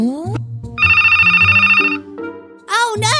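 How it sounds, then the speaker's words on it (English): Phone ringing in the Roblox game Brookhaven, a bright warbling electronic ring lasting about a second, set between cartoonish game voices and music-like tones, loud and close. "I'm gonna go answer my phone outside, okay?"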